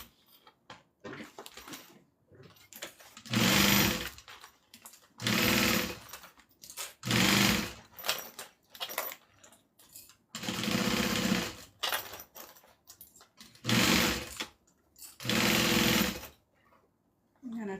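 A sewing machine stitches a satchel bag with its lining, running in about seven loud, steady bursts of a few seconds each, separated by short pauses and quieter handling noises.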